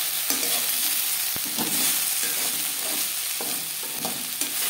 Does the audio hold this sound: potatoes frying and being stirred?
yes